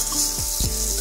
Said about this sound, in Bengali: বেশি আমি লাল লাল করে ভাজবো না, তাহলে পেঁয়াজটা পুড়ে যাবে